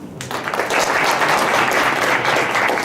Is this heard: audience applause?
yes